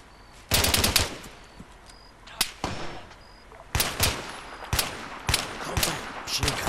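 Machine guns fire in the military shooter game Arma 3, loud, rapid bursts coming in repeated volleys with short gaps, punctuated by sharper single cracks and heard without talk.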